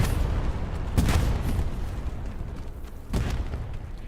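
Two deep booms from a destroyed Airhead light vehicle in a military video game, one near the first second and another around three seconds, over a steady rumbling battlefield background.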